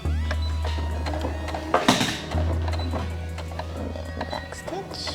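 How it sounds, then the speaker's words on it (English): A sewing machine runs a short tack-down stitch across a fabric face mask, its low motor hum in two bursts separated by a brief pause filled with clicks and handling noise. "just do a little tack down stitch"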